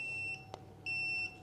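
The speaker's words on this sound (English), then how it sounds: "wait for some beeps" Two sustained electronic beeps from a Ninebot F-series electric scooter, the second following a short gap, sound fairly close with a faint background hum.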